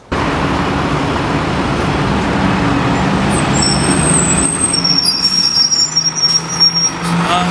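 At a roadside stop for city buses, heavy engines rumble and idle close by amid steady traffic noise, with a brief air-brake hiss and passing vehicles.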